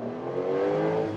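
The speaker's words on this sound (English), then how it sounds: "Let's see here, one more acceleration uphill." A Porsche 911 Turbo S hybrid accelerates uphill, its engine a steady, close rising drone with a smooth harmonic hum throughout the short burst, no voices over it.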